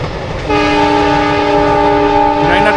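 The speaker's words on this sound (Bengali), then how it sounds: "জানি না ট্রেনটা কোন দিকে যাচ্ছে" Loud sustained train horn blaring over the rumble of a passing train near Bhalukpong, starting half a second in and holding steady through to the end.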